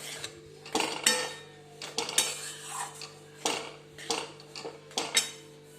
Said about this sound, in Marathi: अशा प्रकारे मंद आचेवर तुम्ही हे मिक्स करून घ्यायचं आहे